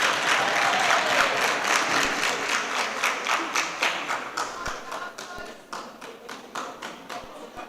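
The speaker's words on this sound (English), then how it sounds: "Can we clap hands as he proceeds to the podium?" An audience at a youth parliament session claps as a member walks to the podium, loud dense applause at first that thins into a slower rhythmic clap with a few thumps.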